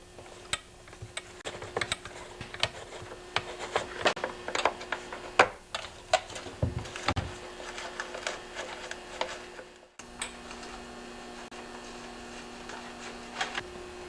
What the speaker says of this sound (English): Once you've got all the screws loose, the cover will just come off.